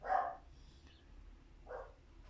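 A dog gives two short barks, one at the start and another about a second and a half later, moderately close against a quiet room with a low background hum.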